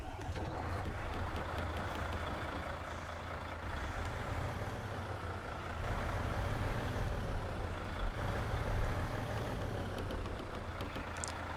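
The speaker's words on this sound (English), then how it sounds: "I suppose I'll just give a little go here of the startup noise and the engine sound" A big truck engine in the video game SnowRunner rumbles steadily at idle after startup, with a deep low drone and a faint beeping now and then.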